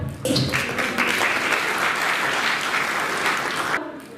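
An audience at a university ceremony in Gorakhpur, where the chief minister hands awards and smartphones to students, breaks into loud, dense applause that holds steady for about three and a half seconds before cutting off.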